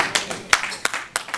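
Audience at a youth and adult empowerment symposium clapping, a few sparse, distinct claps spaced out in a loose irregular rhythm, fairly close and sharp rather than a full ovation.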